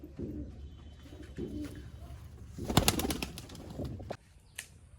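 A Siraji pigeon, a female, coos in low, soft, repeated throaty calls close by, with a brief burst of wing flapping and rustling partway through.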